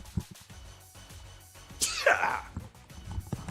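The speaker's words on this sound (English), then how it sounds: "Sorry, I'm going to sneeze." A single sharp sneeze from a person, close and loud, bursting out midway after a few quiet breaths and small mouth sounds, followed by rustling.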